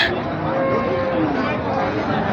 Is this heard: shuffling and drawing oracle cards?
no